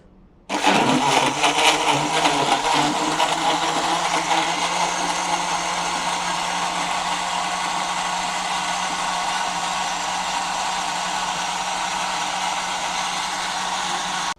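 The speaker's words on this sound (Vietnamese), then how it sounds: "mình xay lên" An electric blender starts abruptly and keeps running loud and steady, whirring through a mixture with 1.5 litres of water.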